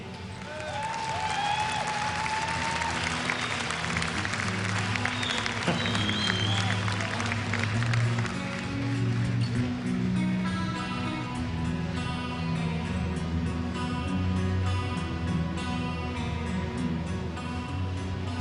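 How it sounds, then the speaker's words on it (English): Arena audience applauds the silver-medal team at a Counter-Strike esports grand final, sustained dense clapping and crowd noise filling the hall throughout, with an announcer speaking over it. "One last round of applause for your silver medalists"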